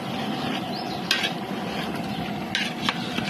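Masala mixture being stirred in a cooking pan with oil during a rural village-style feast, a steady scraping and stirring texture over faint sizzling, with a few sharper metallic utensil clinks, close and moderately loud.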